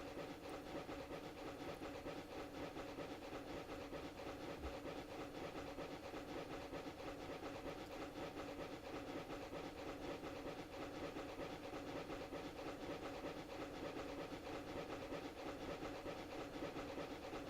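DSP&P Mogul steam locomotives in Train Simulator Classic give a constant, steady hiss and rumble at an even level, with no clear beat or change across the stretch.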